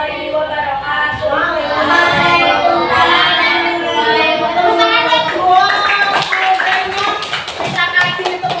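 Children in a fourth-grade classroom clap for a group presentation, with rhythmic chant-like clapping under a lively chorus of kids' voices calling out together.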